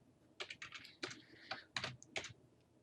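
Fingers tapping on a computer keyboard, a quick irregular run of crisp clicky keystrokes in small bursts, close and fairly quiet with no talking.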